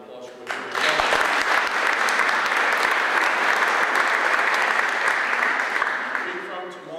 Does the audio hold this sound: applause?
yes